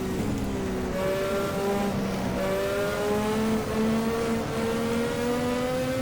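Formula Classic race car engine in the sim racing game Automobilista at Jacarepagua, a steady high-pitched whine rising through the gears with upshift steps, loud and continuous with no talk.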